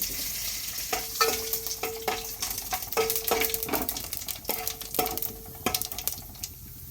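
Fenugreek, cumin and dried red chillies crackle and sizzle steadily in hot oil in a pan, with a few sharp clinks of a utensil against the metal scattered through.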